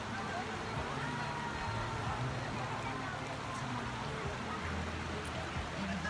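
River water runs steadily at a mini resort in Floridablanca, Pampanga, a constant wash of flowing stream noise that stays even throughout, with people talking nearby underneath it.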